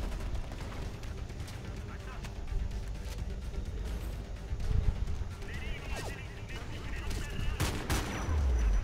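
Tank and small-arms gunfire rumble continuously through a busy combat scene in the game Homefront: The Revolution, with heavy booms and bursts layered together while players talk over the chaos.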